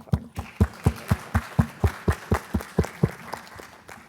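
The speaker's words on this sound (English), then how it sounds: "let's clap for her." Applause for a panelist on a health IT career panel comes as a short run of evenly spaced, fairly close claps, about a dozen in a steady rhythm, before fading out.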